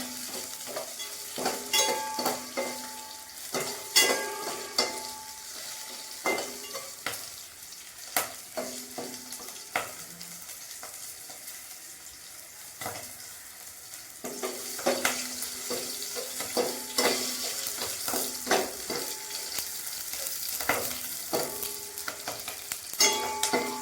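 Green chillies sauté with salt in a pan, a bright continuous sizzle with repeated scraping stirs of a spoon, close and alone without talk.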